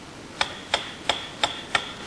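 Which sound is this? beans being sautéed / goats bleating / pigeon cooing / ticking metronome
ticking metronome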